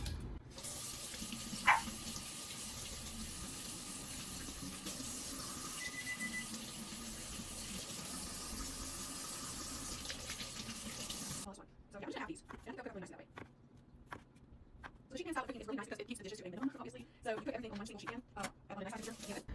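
Kitchen tap water running steadily into a sink while red potatoes are rinsed, a loud continuous stream that cuts off partway, followed by wet handling sounds and a person speaking.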